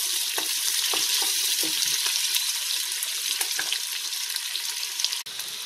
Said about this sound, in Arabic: البصل تاعي يتقلى.